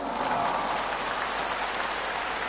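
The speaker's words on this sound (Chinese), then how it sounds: "鼓掌。" An audience at a talk claps steadily in a dense, even wash of applause lasting a few seconds with no voices over it.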